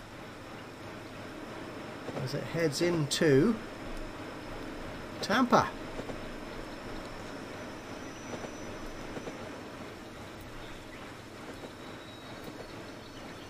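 Freight train running in the video game Train World, a steady rumble of rolling rail cars with a few squealing wheel bursts, heard beneath a voice talking.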